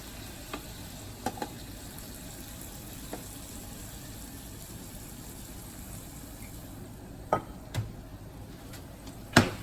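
Ground beef sizzles steadily in a pan as grease is drained off, a soft continuous crackle with a few sharper clinks and scrapes near the end.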